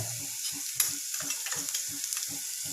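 Spices, including onion-garlic masala and chili powder, are stirred into a frying pan for red tomato chutney: a steady oil sizzle with a regular run of scraping spoon strokes, close and moderately loud.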